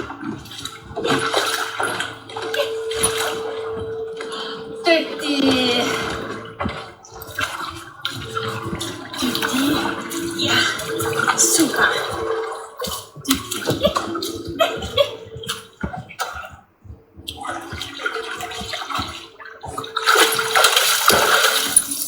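A dog swimming a lap between ramps in an indoor dog pool, with steady sloshing and splashing water echoing in a reverberant hall throughout, and a voice briefly speaking near the end.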